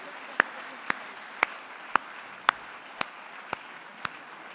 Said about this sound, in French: On vous applaudit extrêmement fort.